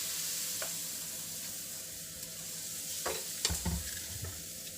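Pudla, a gram flour pancake, fries in oil with a strong continuous sizzle, close by, and a few scraping and tapping sounds from the pan toward the end.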